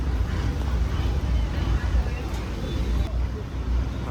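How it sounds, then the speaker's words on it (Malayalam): A passenger ferry boat on the Kumarakom–Muhamma backwater route runs its engine in reverse, a steady close low rumble with wind buffeting, while someone talks over it. "അങ്ങനെ നമ്മുടെ ബോട്ടിൽ റിവേഴ്സ് എടുത്ത് ബാക്ക് സൈഡ് നോക്കി വരാൻ പോകാട്ടോ"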